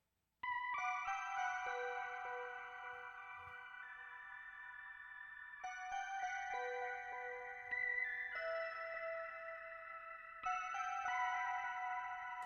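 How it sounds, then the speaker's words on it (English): A Prophet 600 analog synthesizer playing a wizard-style patch, sustained bright tones panned across the stereo field, shifting between held notes in slow phrases, clean and alone. "this is just a classic Prophet 600 wizard style patch"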